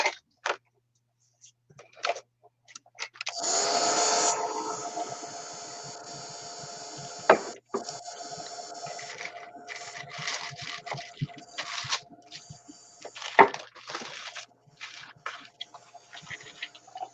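A heat tool dries a mixed media painting: a loud, steady blowing whoosh starts after a few seconds and carries on for a long stretch, with scattered clicks and taps around it and at the close.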